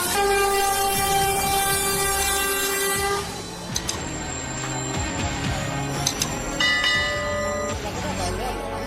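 A train rumbles past a crossing while its horn sounds in long steady tones, with clanging crossing bells joining in partway through; the train strikes a truck at the crossing.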